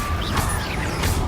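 A Confringo blasting spell in Hogwarts Legacy goes off as a dense, crackling burst with two sharper bright impacts over a continuous rumbling roar, no voices.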